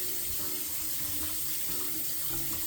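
Hot water runs from a bathroom tap ahead of using a Smile Direct Club water flosser, a steady close splashing stream that goes on without pause and with no talk.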